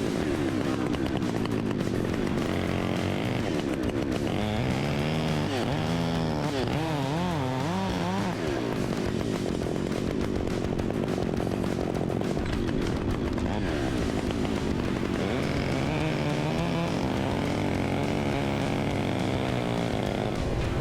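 A chainsaw cuts through a tree trunk with a loud, continuous engine drone whose pitch rises and falls as the throttle shifts and the chain bites into the wood.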